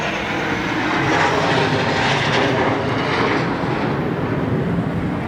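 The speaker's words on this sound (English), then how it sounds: "I see a freaking fighter jet" Fighter jet flying overhead near the border with North Korea, heard as a loud, broad, continuous roar that stays strong for several seconds and peaks around the middle, with no talk over it.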